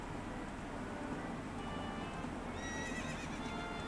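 A horse neighs and its hooves clip-clop in Ocarina of Time, with a steady run of hoofbeats under continuous ambient noise and a bright whinny rising near the end.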